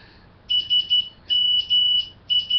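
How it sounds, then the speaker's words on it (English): A phone's text-message notification sounds as several bursts of short, bright, high-pitched beeps, loud and close, repeating in quick clusters over a quiet background. "That's a text message"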